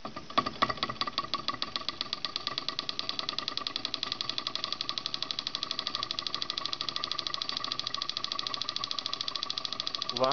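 An antique solenoid motor runs on a single 1.2V AAA nickel metal hydride battery, giving a rapid, steady mechanical clatter of fast regular clicks that holds an even pace throughout, close and fairly loud.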